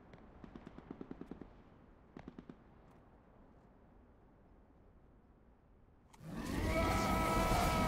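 Rapid bursts of video game gunfire crackle in short volleys, with a few isolated shots between them, and a loud sustained roar follows near the end.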